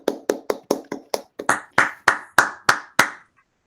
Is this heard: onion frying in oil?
no